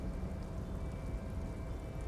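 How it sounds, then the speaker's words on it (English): Steady rain falling in the video game Disco Elysium, a continuous low patter that stays even and moderately loud throughout, with no voices over it. "it's raining"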